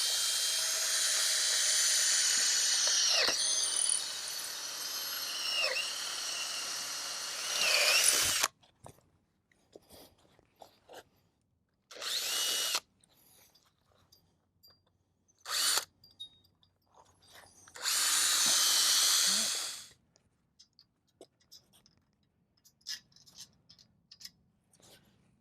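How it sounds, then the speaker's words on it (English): An electric drill bores holes through an autolysimeter in bursts of high whining, first a long continuous run, then several short spurts and one longer drilling stretch, with small clicks and handling noises between them. "Get our electric drill."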